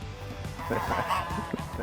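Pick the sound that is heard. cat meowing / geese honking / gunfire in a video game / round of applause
geese honking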